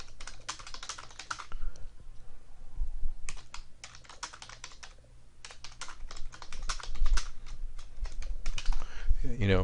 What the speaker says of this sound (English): So and then just type in whatever the message is